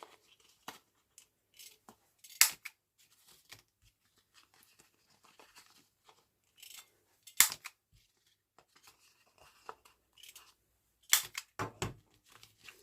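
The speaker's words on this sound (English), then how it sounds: "Really need some sharper scissors" Scissors snip through thick paper to round off the corners of a paperclip journaling tag, a few scattered crisp cuts and small crinkles separated by near silence, close and fairly quiet.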